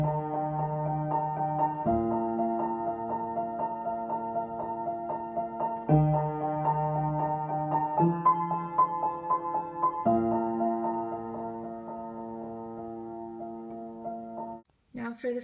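Piano plays a song with both hands, slow sustained chords changing every couple of seconds beneath a soft melody line, close and gentle, with a brief pause near the end.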